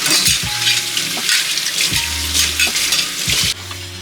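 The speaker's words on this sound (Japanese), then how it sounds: "五徳の方も洗っていきまして、これはもうね中性洗剤で洗ってます" A gas stove trivet is scrubbed with neutral detergent under running water, a close, loud wash of splashing and rubbing with a few knocks of metal. The flow breaks off briefly near the end, with no speech.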